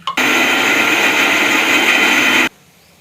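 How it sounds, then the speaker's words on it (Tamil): A kitchen mixer grinder purees tomatoes in one continuous loud whirring burst of a little over two seconds. The motor starts abruptly and cuts off just as sharply, leaving near silence behind it. "இப்போ வந்து தக்காளி நம்ம அரைச்சி எடுத்தாச்சு"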